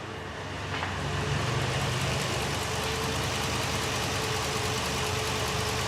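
A U-Haul truck's newly installed engine runs at a steady idle, a close, even rumble with a faint knocking texture that holds for about six seconds with no talking.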